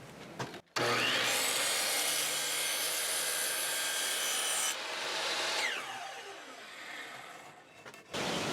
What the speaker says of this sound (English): I'm just going to cut this 15-degree angle on the top